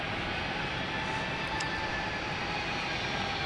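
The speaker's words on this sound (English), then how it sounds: "Jetstar 320 pulling off the gates" A Jetstar Airbus A320 pushes back from the gates at Melbourne Airport at night, giving off a steady, broad jet-engine roar heard from a distance.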